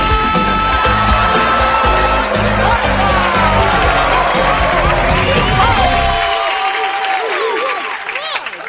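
A television comedy show's studio audience bursts into applause and cheering, loud dense clapping with whoops and music, fading toward the end.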